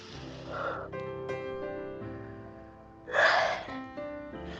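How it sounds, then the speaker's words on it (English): A slow, deep breath drawn in and let out during a guided breathing exercise, close and soft, with a louder rushing exhale about three seconds in and a faint hum beneath. "Take a deep breath with me."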